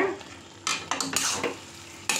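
Gobindobhog rice is stirred into a wet prawn mixture in a pan, several quick, close scraping strokes over a soft sizzle, separated by brief pauses, with no talking.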